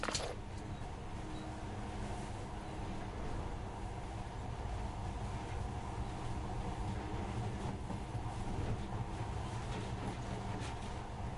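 A steady low rumble of a video game monorail train running continuously, with faint rail clatter and hum, even and sustained throughout.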